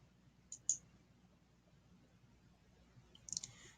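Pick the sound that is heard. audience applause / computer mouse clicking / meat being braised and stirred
computer mouse clicking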